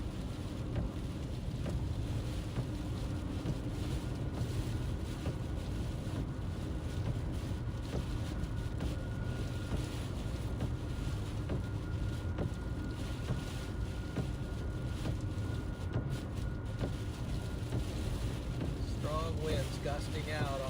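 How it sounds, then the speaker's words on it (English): Strong wind from a massive supercell storm roars and buffets the microphone without letup, a thick, rumbling gust that never dies down. "Gusting out on this massive supercell"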